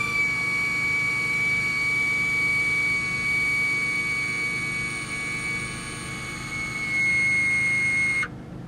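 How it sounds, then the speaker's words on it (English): The front axle lifter system on a Ferrari Enzo raises the car with a steady, loud, high electric whine that holds for about eight seconds and then cuts off abruptly. "You push that and the car lifts its front axle a couple of inches off the ground for better ground clearance"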